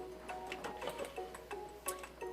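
Timer ticking in the video game I love you Colonel Sanders, a regular run of crisp ticks with a faint tonal hum underneath, no voices.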